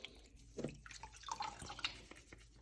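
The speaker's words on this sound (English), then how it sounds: "take this one, rinse it in here a little bit as well. Squish it, squeeze it, switch it around." A blue aquarium filter sponge is rinsed and squeezed in a container of water, giving soft, quiet sloshing, dripping and squishing sounds up close with no talking.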